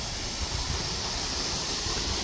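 Waterfall in Indonesia after a major lahar flood from Semeru volcano, heard as a continuous broadband rush of falling water with a steady, even roar and no voices over it.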